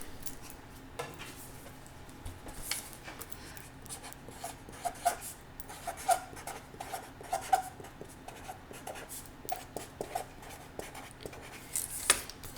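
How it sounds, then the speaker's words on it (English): Dark blue marker squeaking and scraping across a board during a science lesson, steady irregular strokes with small taps, faint and close in a quiet room. "So I'm going to write this with"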